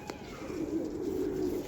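Soft, low pigeon cooing rolls on continuously at a moderate distance, with faint background noise and no talking.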